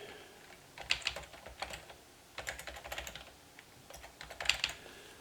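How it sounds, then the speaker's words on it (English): Fingers typing on a computer keyboard during a cranial nerve exam, close and soft, in short uneven bursts of key taps separated by brief pauses, with no talking. "type that in"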